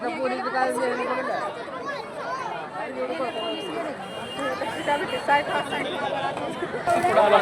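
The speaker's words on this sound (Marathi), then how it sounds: "मित्रांनो, किती गर्दी आहे." Dense crowd chatter at a village jatra fair in Sangola, a steady hubbub of many overlapping voices close around, continuous throughout with shouts rising near the end.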